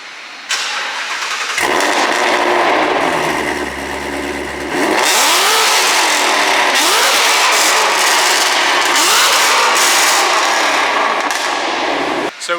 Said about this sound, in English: we're just going to give it a quick rev for you